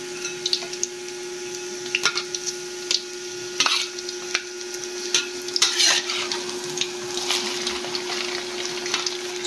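Banana heart okoy fritters deep-fry fully submerged in plenty of hot oil, giving a steady loud sizzle and crackle with occasional stirring scrapes, close up and continuous with no voices.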